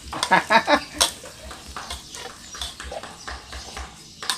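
Garlic stir-frying in a pan for fried rice, with a spatula scraping and tapping the pan in irregular bursts over a soft sizzle, close and moderately loud.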